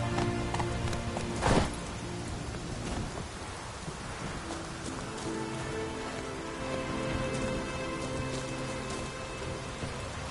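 Steady rain falls in the video game The Witcher 3, a constant soft patter on surfaces, with a brief louder crack early on and faint hoof clops mixed under the downpour.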